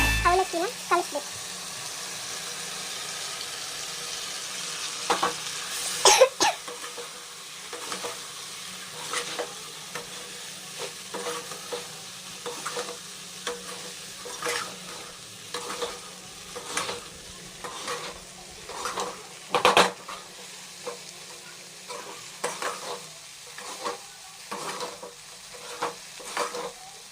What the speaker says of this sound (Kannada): ಈಗ ಇದಕ್ಕೆ ಅವಲಕ್ಕಿ ಹಾಕಿ ಅವಲಕ್ಕಿನ ಕಲಿಸ್ಬೇಕು